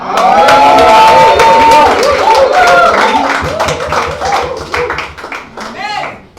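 A church congregation at a Sunday service in Treichville shouts with joy and claps, a loud, dense crowd roar with rhythmic clapping and cheering under singing voices, fading slightly toward the end.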